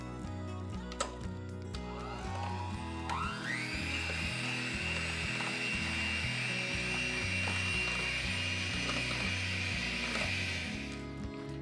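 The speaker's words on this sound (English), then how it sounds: "use a hand mixer" Electric hand mixer whirring steadily as it creams sugar into a dip, a continuous motor whine rising after a short start and running close and loud for several seconds before cutting off.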